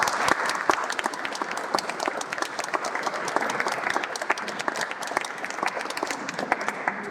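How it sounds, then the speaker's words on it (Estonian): Sustained applause from a spring concert audience at a bell school, greeting the youngest performers: dense, steady clapping from a large crowd throughout, loud and continuous with no pauses. "nüüd teeme veel kord aplausi meie kõige nooremale täiesti"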